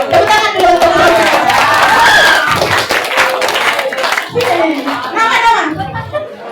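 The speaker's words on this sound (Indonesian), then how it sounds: "Tepuk tangan dulu untuk mereka." Schoolchildren in a classroom clap their hands together in a brisk, uneven patter, with lively chatter and young voices running over it throughout.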